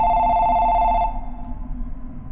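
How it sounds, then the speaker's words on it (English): Telephone ringing with a bright, steady electronic tone that cuts off partway, leaving a low background hum; loud and close, with no one talking. "is that the phone?"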